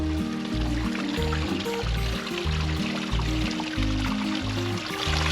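Water trickling and splashing in a water feature at a desert museum, a steady close stream of liquid under a constant background drone with no talk.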